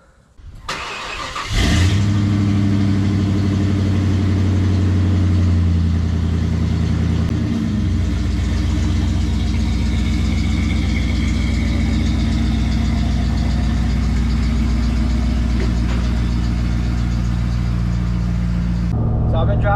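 An old truck fitted with new BDS suspension shocks drives hard as a ride test, its engine a loud, steady low rumble throughout after a brief start at the beginning.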